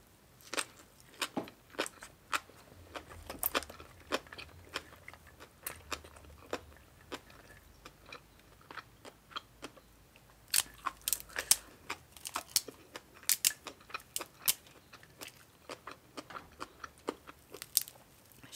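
Crunchy bites and chewing on spicy Thai papaya salad with pickled fish sauce, crispy sun-dried fried tilapia and cha-om, heard close up as sharp repeated crackles in bursts with short pauses, no talk.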